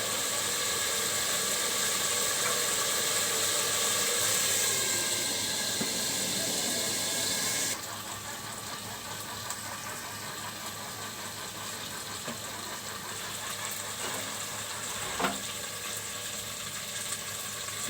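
Red lentils sauté in a pan, giving a steady, broad hiss that drops somewhat in level partway through and carries on with faint clicks and scrapes.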